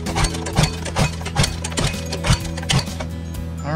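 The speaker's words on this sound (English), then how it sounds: "I'm gonna pull it a few times just to get the oil moving around in there" A Predator 212 small engine, spark plug in and switch off, is pull-started several times to move oil around: a rhythmic series of about seven raspy cranking pulls, close and fairly loud.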